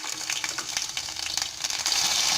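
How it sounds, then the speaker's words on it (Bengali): Garlic paste sizzling in hot oil in a pan for pickle-making, a steady close frying hiss with crackling bursts that swells toward the end. "রসুন বাটা দিয়ে জাস্ট আমি 15 থেকে 20 সেকেন্ড ভেজে নেব।"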